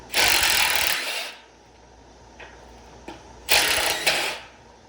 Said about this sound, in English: I'm going to start with my 7/16 driver, and I'm going to completely back out the two fasteners holding the front of the seat bucket to the leg